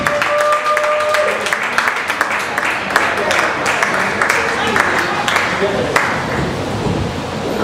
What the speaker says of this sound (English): Please give a round of applause for Whitney Wasson.